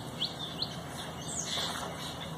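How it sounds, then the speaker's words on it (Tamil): Several birds chirping around a pond at a school water-festival site, short bright calls popping up over a steady outdoor background hiss, fairly close and moderately loud, with no talking. "இப்ப பாத்தீங்களா எவ்வளவு பறவைகள்லாம் இங்க இருக்குது"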